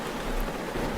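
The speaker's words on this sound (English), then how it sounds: "I guess that's when thunder is supposed to happen, because it kind of sounds like rain." Steady rain hiss from an indie video game, continuous and fairly loud across the moment with low rumble underneath, no distinct thunderclap.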